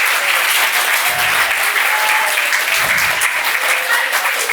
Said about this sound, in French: Et on peut aussi applaudir très fort son acolyte